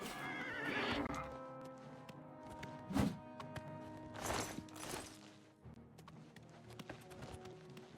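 A horse whinnies loudly a few times in the video game The Elder Scrolls IV: Oblivion Remastered, with hooves clip-clopping and a heavy thud in between, all fairly close and clear.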